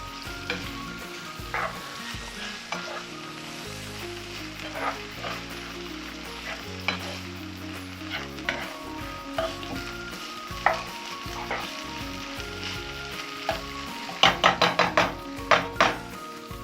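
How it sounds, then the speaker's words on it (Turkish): Tomato paste sizzles in a pan as it is stirred, a steady frying crackle broken by scraping and clinking strokes, with a quick run of sharp knocks near the end. "Salçalarımın önce bir acılığını almak istiyorum."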